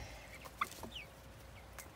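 A flock of domestic chickens clucking outdoors, with a few short, faint clucks and calls scattered over quiet background ambience.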